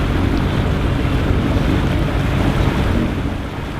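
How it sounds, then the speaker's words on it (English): A small sailing boat at sea at night in the tropics near remote Indonesian islands, with loud, constant rushing wind and crashing waves filling the whole stretch and easing slightly at the end. "We're sailing in the tropics,"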